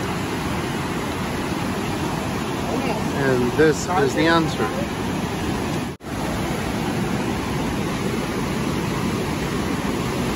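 Foamy whitewater rushing through the gorge at Niagara Falls, a loud, steady, broadband roar close by that holds constant, with someone speaking briefly over it.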